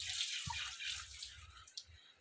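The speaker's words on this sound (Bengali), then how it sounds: "বাবু বিকেল বেলা কিন্তু এখন তুই জলটা ফেলছিস কেন?" A child splashes and pours water, sloshing and trickling close by in short bursts with small drips, and no talking over it.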